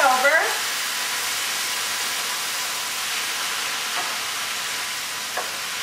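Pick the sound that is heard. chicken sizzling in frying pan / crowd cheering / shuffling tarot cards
chicken sizzling in frying pan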